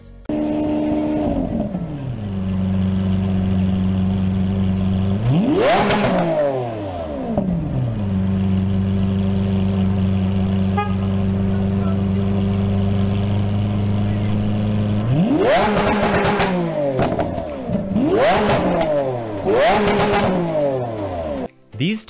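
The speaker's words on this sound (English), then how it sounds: "He revs the engine super loud." A Lamborghini sports car engine revs loudly in repeated sharp bursts, climbing and falling between a steady rumbling idle, with several quick throttle blips near the end; close and powerful, with no talking.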